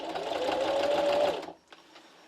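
A sewing machine back-stitching the start of a seam joining carpet tiles, heard as a close, steady mechanical whir that stops abruptly, followed by a few faint clicks.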